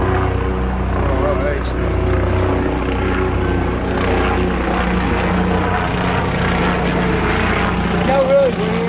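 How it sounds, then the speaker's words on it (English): A helicopter drones loudly and steadily overhead, its rotor thrum and engine whine filling the whole stretch without letup. "Hell of a helicopter."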